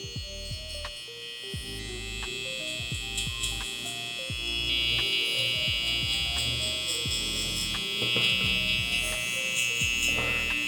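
An electric shaver buzzes steadily near and loud, cutting stubble during a haircut, with short cutting strokes breaking the drone over and over; no one speaks.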